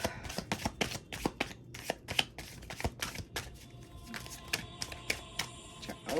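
Tarot cards being shuffled overhand, a quick run of crisp, close riffling slaps and flicks in an uneven rhythm, fairly quiet.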